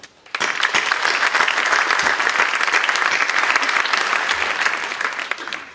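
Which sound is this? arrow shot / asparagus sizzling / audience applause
audience applause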